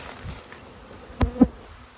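Faint, close buzzing of honey bees at a hive with a couple of brief louder knocks partway through, over a quiet background.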